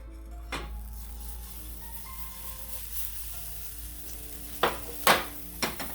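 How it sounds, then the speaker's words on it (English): Butter sizzles steadily in a pan for crumpets, a soft continuous crackle under a low hum, with a few sharp clinks of utensils against the pan near the end. "Let's go ahead and add some butter to the pan."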